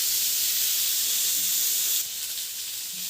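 Mustard oil hits a hot karahi with a loud, continuous hiss that eases slightly partway through.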